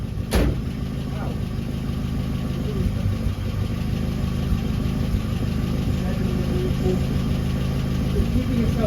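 A classic Mini car engine idles steadily after start-up, being self-tuned for the first time, with a loud, even low rumble that runs throughout and one sharp knock near the start; speech is heard faintly over it.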